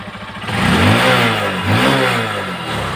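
A Honda TMX Supremo 150cc motorcycle engine, just after a carburetor cleaning, idles with a close, loud rattly chug, then is revved twice in quick swells before settling back toward idle.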